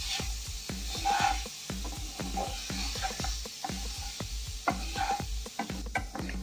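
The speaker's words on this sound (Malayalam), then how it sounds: "നമ്മളിത് കുഴഞ്ഞു പോകാതെ സൂക്ഷിച്ചിളക്കണം." A spoon stirs mango pieces into fruit custard in a pan, making rhythmic, closely spaced scraping strokes over a soft underlying sizzle, with no voices.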